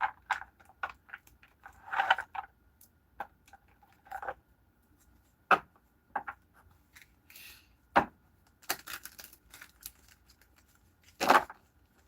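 A deck of playing cards is shuffled in a quiet room in repeated quick riffles and soft slaps, sharp bursts scattered irregularly across the span.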